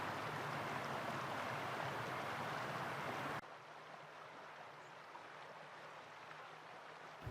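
The Deschutes River flows through a canyon in Central Oregon, a soft steady rush of water that abruptly drops to a quieter, fainter hiss partway through, with no voices.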